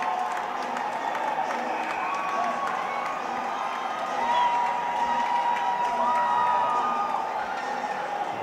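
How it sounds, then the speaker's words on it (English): Arena crowd at a CSU Rams versus CU Buffalo college hockey game in Fort Collins roaring and applauding after a goal, a dense sustained cheer with whoops that swells midway. "The crowd goes wild in here"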